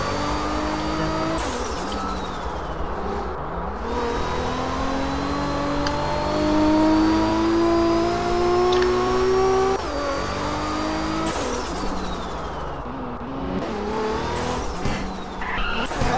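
Speeding white Supra in a police roleplay video game, engines revving and shifting through gears with tire squeal and skidding, a continuous loud rush of car noise throughout.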